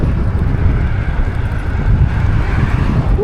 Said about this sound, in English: Ooh, that wind is strong.